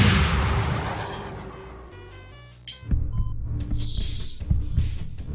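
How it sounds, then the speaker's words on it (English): Sci-fi blaster fire effects during a Star Wars tabletop game: a fading whooshing roar gives way to electronic tonal zaps, pulsing beeps and throbbing booms, several distinct bursts at close, loud level with no talking. "you see a couple of red blaster bolts fire up into the sky after the TIE fighters"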